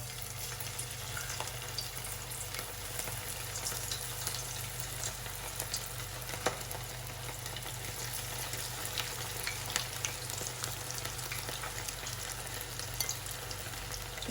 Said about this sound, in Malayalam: ഒരു മീഡിയം ഫ്ലെയിമിലിട്ട് നന്നായിട്ടൊന്ന് ഫ്രൈ ചെയ്തെടുക്കാം.